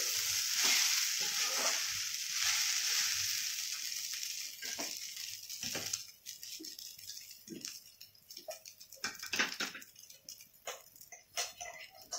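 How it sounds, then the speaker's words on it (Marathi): Sabudana khichdi frying in a pan, first a dense sizzle, then repeated scraping and clattering strokes of a spoon as it is stirred continuously, close and moderately loud. "याला सतत हलवत राहायचं, नाहीतर काय होतं, खाली चिटकलं जातो, करपलं जातो साबुदाणा"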